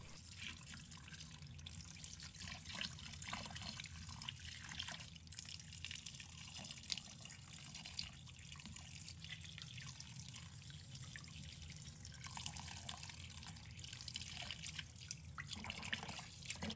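A red fish being rinsed under running water, a quiet, steady trickle with scattered drips and splashes from a tap, faint and continuous throughout.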